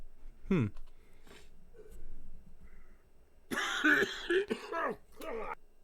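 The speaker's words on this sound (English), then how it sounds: "he sucks snot down his throat and immediately coughs every time" A man coughs once, then after a pause clears his throat and coughs harshly a few times in quick succession.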